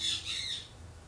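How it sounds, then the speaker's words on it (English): Pet birds screaming at home, a loud, harsh high squawk in two close bursts followed by a fading tail, with no talk over it. "my birds screaming in the background"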